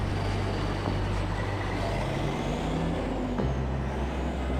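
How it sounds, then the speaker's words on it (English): Trucks idle at the Hunts Point produce market in the Bronx, a low steady diesel drone with traffic around, broken by a hiss of air brakes releasing partway through. "Due to all the trucks that come and go from the area, there is always major traffic, and because the trucks are always idling"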